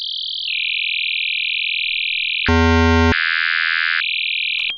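Synthesizer tone from an operator-style patch, a high steady oscillator modulated by a very low one, loud and pure, stepping in pitch partway with a brief buzzy harmonic-rich burst before settling back, with no voices.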